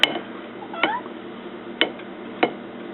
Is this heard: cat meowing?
yes